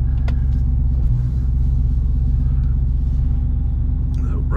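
A lifted Jeep with an EcoDiesel engine, bigger axles and 40-inch tires driving, giving a steady, loud, low engine rumble throughout with no break.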